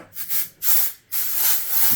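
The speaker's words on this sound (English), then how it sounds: "Take some of this Heritage texturizing spray." Three short bursts of texturizing hair spray hiss in quick succession, close and fairly loud, with brief pauses between them.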